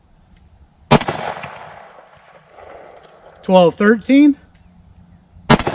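Two loud, sharp 10mm handload shots from a Smith & Wesson pistol crack several seconds apart outdoors, the first with a lingering echo; someone speaks briefly between them.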